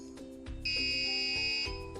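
An electronic buzzer on an RFID automatic door lock sounds a steady high-pitched tone for about a second as an unregistered card is rejected, close and fairly loud over a faint background hum.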